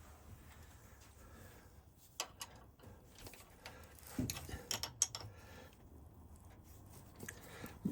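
A small nut is threaded onto a steam tram model part and snugged tight, faint metallic ticks and light scraping clicks, sparse and close, with a few sharper taps toward the middle.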